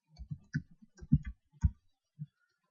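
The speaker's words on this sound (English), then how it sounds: "I'll type in my name" A person types a name into a website login form on a computer keyboard, producing a quick irregular run of close, crisp key clicks with short pauses between them.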